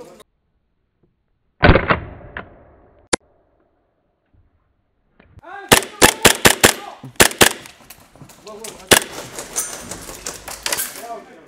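Airsoft gun shots during a game on a field, a few sharp isolated pops early, then a rapid burst of repeated clicking shots with clattering impacts, loud and close.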